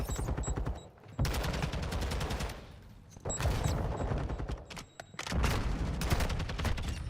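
Bursts of rapid automatic gunfire from a competitive online shooter match, loud and dense, coming in three long volleys separated by brief lulls.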